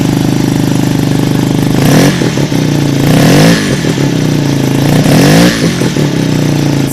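A Suzuki RE5 motorcycle with a Wankel rotary engine runs close and loud, holding a steady buzzing idle with a few throttle blips that rise and fall.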